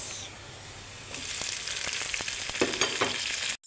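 Tomatoes sautéing with garlic in a pan, a quiet hiss that jumps to a loud, steady sizzle as they hit the oil, with scattered stirring scrapes and pops up close.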